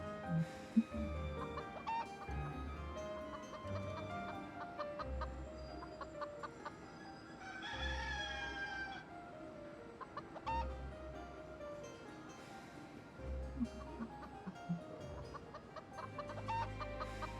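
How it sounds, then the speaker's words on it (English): Chickens clucking in the Fuga: Melodies of Steel 2 video game, with repeated short clucks and occasional livelier bursts over in-game music and ambience, steady and moderately loud. "I just hear the chickens just going pok pok pok pok"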